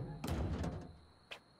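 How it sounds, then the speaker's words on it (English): A door is opened and closed: a loud thudding bang near the start, followed moments later by a shorter, quieter knock, with no talking. "I'm opening and closing the door."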